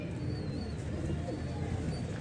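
Royal Teddy pigeons coo softly and continuously in a loft, a low murmuring blend of several birds under steady background hum.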